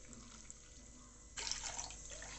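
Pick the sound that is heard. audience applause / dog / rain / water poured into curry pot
water poured into curry pot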